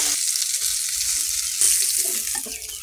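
Fish frying in hot oil makes a continuous close sizzle with a louder crackling swell midway and a few light clinks of stirring toward the end, no one speaking.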